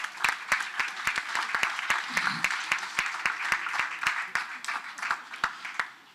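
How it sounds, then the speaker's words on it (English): A crowd at the Harvard Allston Partnership Fund grants ceremony applauds recipients, with sharp individual claps standing out over a steady bed of clapping at moderate loudness, plus a brief low murmur of voices midway. "So a round of applause for them."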